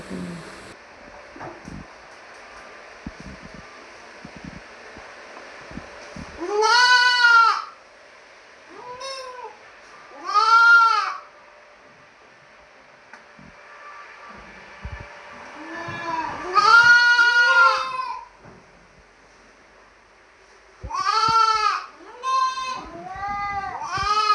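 Young goat kids bleat repeatedly at home, in loud, close, wavering bursts separated by short pauses, with faint background noise between the calls.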